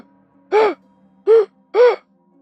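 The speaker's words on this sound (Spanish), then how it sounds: "Es como si alguien intentara respirar, pero su respiración estuviera entrecortada" Three separate labored, gasping breaths come close and loud, each a short strained pull of air, spaced roughly evenly apart against a faint low hum.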